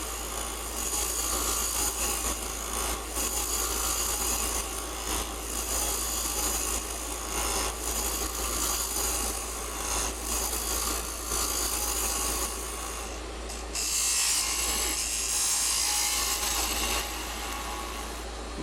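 A chess bishop spinning on a wood lathe under a turning tool taking fine cuts, giving a steady hissing scrape over a low motor hum that grows brighter and harsher near the end, close and without talk.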